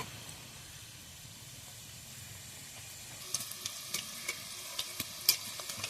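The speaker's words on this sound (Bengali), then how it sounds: "সিঙ্গাড়াগুলো এরকম আস্তে আস্তে হালকা মানে গরম তেলে ভাজতে হবে" Singaras (samosas) fry slowly in hot oil over a very low flame, a soft steady sizzle that picks up scattered sharp crackles and pops partway through, with no talking.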